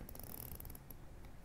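Dense, rapid ratcheting clicks from a 120-click rotating bezel being turned on a Seiko Fugu Limited dive watch, a fine continuous mechanical chatter close to the ear with no talking.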